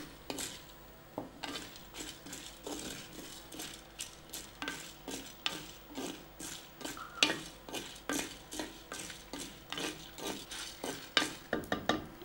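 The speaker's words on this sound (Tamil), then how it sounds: "இப்போ இந்த மல்லியும் ஒன்றா போட்டு வறுத்துறோம்" Coriander seeds and cumin dry-roast in a pan while a spoon stirs them, making a quiet, close rhythmic scraping and rattling of seeds, roughly two strokes a second, with occasional metallic knocks. No voices.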